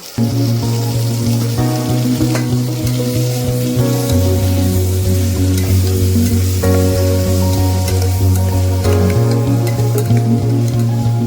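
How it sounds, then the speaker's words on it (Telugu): Tomato pieces sizzle loudly in a hot pan for mushroom biryani, a steady crackling fry running continuously under a sustained musical backdrop. "ఒక అరకప్పు టమాటా ముక్కల్ని వేసి ఫ్రై చేయండి"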